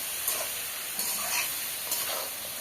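Bottle gourd frying in spices in a pan, stirred with a utensil, giving a steady soft sizzle broken by a few scraping stir strokes, close by and with no voices.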